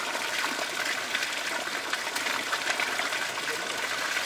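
Spring water with high mineral content flows steadily beneath a very old, tall tree, a soft continuous rushing trickle heard close but fairly faint.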